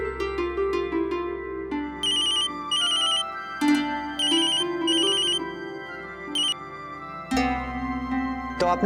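A phone ringtone chiming in a repeating melodic pattern while a call goes out to a friend, clear and steady, with brief pauses between phrases.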